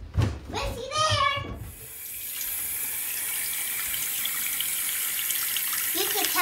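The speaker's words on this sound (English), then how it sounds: "you guys gotta go wash your hands for at least 20 seconds" Children's voices briefly, then a tap runs steadily into a sink as hands are washed; the close, even gush continues to the end.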